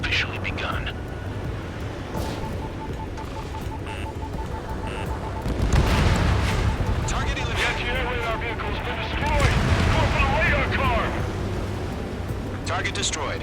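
Anti-air gunfire and explosions in the Ace Combat 7 video game rumble under a continuous battle din, swelling into heavier blasts twice. Radio voices talk over the noise.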